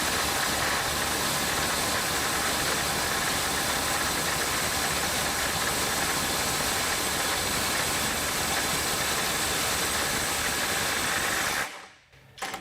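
A FLEX 24V quick-eject impact driver with a 5 amp-hour battery hammering on a large fastener, a continuous loud rapid rattling buzz held for over ten seconds before stopping abruptly.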